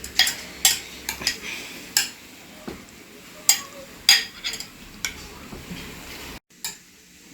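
A spoon scraping and knocking in a pot while pasta ingredients with plantain and tomato are stirred, giving irregular clanks and scrapes close by over a soft background sizzle.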